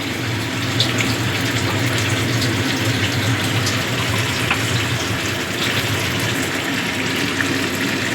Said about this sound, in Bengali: মিক্সিং জারটা ধুয়ে জল দিয়ে দিচ্ছি অল্প